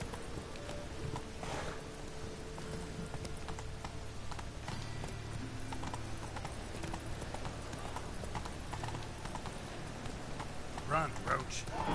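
The horse Roach gallops in The Witcher 3 on PS4, a rapid rhythmic clip-clop of hooves running through stormy weather, with a voice speaking over the hoofbeats.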